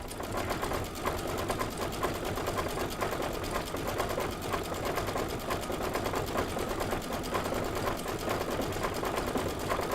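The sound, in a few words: embroidery sewing machine stitching a fill pattern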